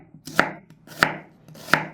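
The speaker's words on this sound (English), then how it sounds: "I will chop it into small pieces to use in the recipe." A knife chopping an onion into small pieces on a board: three crisp, evenly spaced chops, close and clear with no talking.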